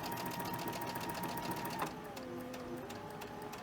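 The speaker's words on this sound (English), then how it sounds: "And then we're going to sew this." A sewing machine stitches quilt fabric with a fast, even mechanical whir and needle tapping at close range, slowing briefly before carrying on.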